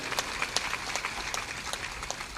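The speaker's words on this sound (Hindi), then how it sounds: "ताली बजा दो।" Audience applause from a crowd at a spiritual gathering, dense steady clapping with scattered sharper claps, moderately loud and continuous throughout.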